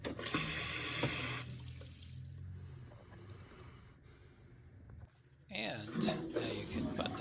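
Water rushes steadily into a toilet tank after a running-toilet repair, then quiets to a trickle before surging again; a voice speaks over part of it.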